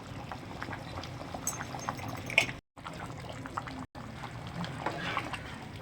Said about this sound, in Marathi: आपण मटणाला आता 10 मिनिटं उकळी घेऊया